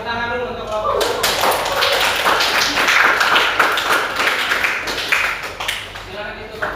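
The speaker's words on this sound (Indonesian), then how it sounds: "tepuk tangan dulu untuk kelompok 1" Classroom group of students clapping after a group presentation, a dense burst of hand claps lasting several seconds over room murmur, with voices talking at the start and end.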